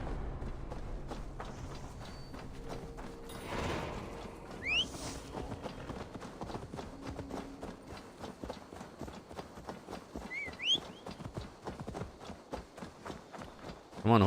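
Rapid, rhythmic hoof clatter from a horse galloping in Assassin's Creed Valhalla, steady repeated thuds running the whole way through at moderate level, with a few brief higher cries over it.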